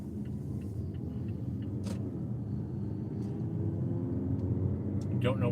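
Road traffic streams past on a busy route, a continuous low rumble of car and engine noise that builds slightly toward the end, heard from inside a vehicle.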